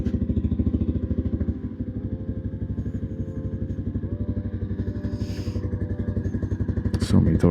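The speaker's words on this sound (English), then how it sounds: "It feels so weird to ride a BMW through with Harleys, man." A BMW motorcycle rides through a town in Alaska, its engine a steady, close, rhythmic putter that holds throughout, with a brief surge near the end.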